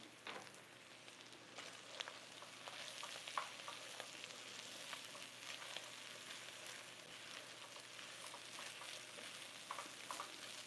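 Oxtail dirty rice fries in a pan with a steady, close sizzle and crackle, dotted with faint stirring scrapes and small pops throughout.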